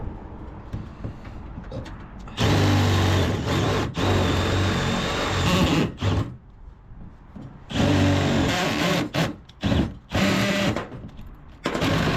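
A power drill bores holes into the roof of a Renault truck for rivet nuts. Loud, close whirring bursts start and stop several times, with short quieter gaps between them.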